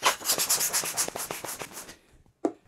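An inner balloon of a nested double balloon, for an under-the-sea birthday arch decoration, is inflated with a quick run of rhythmic, fairly loud pumping strokes. The strokes stop, then a single sharp squeak follows.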